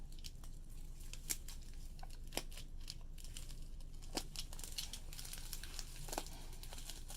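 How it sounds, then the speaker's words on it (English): Careful cutting through tape on the packaging of a Crash Bandicoot toy, with soft crinkling of plastic wrap and a few sharp snips and clicks spread over a steady quiet background; no talking. "I'm not going to cut the wrapping, just the tape."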